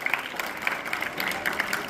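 An audience at a birthday celebration event applauds to congratulate someone, crisp claps scattered through a short, moderately loud burst of clapping.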